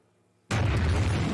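An atomic bomb blast from the film Oppenheimer erupts suddenly out of near silence into a loud, sustained roaring boom that fills the rest of the moment.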